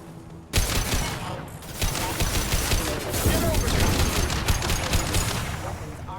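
Dense rapid gunfire from the video game Mass Effect 2 Legendary Edition, loud bursts of automatic shots and crackling impacts continuing nearly nonstop.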